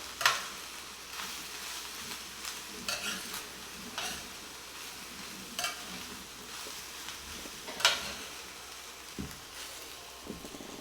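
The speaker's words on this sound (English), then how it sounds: "Adds a lovely flavor to fried rice. Stir, fry." Fried rice with scallions and parsley being stir-fried in a pan, a steady close sizzle with intermittent scraping and clinks of a utensil against the pan, no voices.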